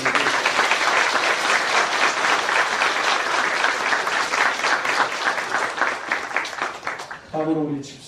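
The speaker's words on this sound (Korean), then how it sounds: "박수 한번 주세요." A congregation at a Baptist church's 50th anniversary and ordination service applauds loudly and steadily for several seconds before the clapping thins out, and a voice then speaks over the room.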